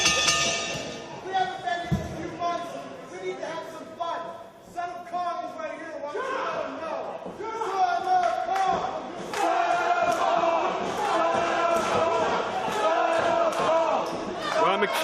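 A wrestling crowd at Court-Time Sports Center jeers wrestler Shane Taylor during an indie event, a loud, sustained roar of voices and chants with scattered shouts and thuds rising steadily under a commentator's voice.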